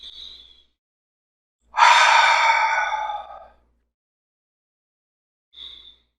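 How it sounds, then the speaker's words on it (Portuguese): Breathing during a guided meditation: one long, loud breath of almost two seconds stands out close to the listener, with short, faint breath sounds at the start and end and silence in between. "continue respirando"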